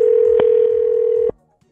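A steady telephone dial tone sounds after a disconnected call, loud and continuous with faint clicks over it, then cuts off abruptly into near silence.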